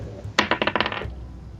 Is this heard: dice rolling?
yes